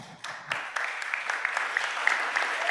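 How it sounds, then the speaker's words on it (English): Audience applause at a Philadelphia City Council session marking MOVE Day of Remembrance, a steady sustained clapping from a crowd with sharper individual claps standing out, fairly close and continuous throughout. "You deserve a round of applause."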